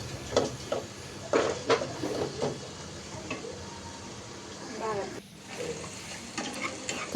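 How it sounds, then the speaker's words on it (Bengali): Onion and tomato frying in a pan for a kuchia fish curry, an ongoing close sizzle broken by repeated clattering stirs and scrapes of a spatula against the pot. "কুড়াল মাছটা বসানোর জন্য পেঁয়াজ ভেজে এরপর টমেটোও দিয়ে দিল।"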